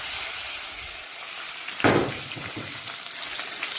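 Egg and potato frying in hot oil in a wok, a steady close sizzle with a sharp louder burst of crackling partway through, then settling back to an even hiss.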